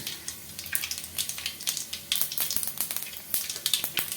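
A few fenugreek seeds crackle and sizzle in hot oil while a spicy okra tamarind curry is being made, giving a steady frying hiss broken by sharp, close pops throughout.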